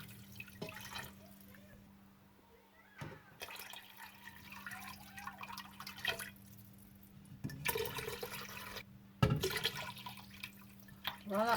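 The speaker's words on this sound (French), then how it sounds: "donc je vais rajouter ici 2 litres d'eau" Two litres of water pour into a soup broth for spicy beef vermicelli soup, a steady faint splashing that surges and trickles in bursts at close range.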